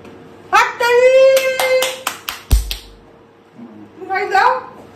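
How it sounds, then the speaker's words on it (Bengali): Hands clap in a quick burst of several sharp claps at a midnight birthday celebration, with voices singing and talking around them, a shorter bout of sound following after a pause. "হাততালি"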